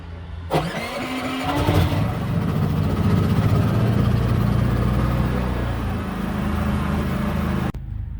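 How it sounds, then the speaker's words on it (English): A generator engine cranks over briefly, catches, and settles into a steady, loud running drone that continues until an abrupt cutoff. "Here's hoping that the generator starts more reliably than the bus."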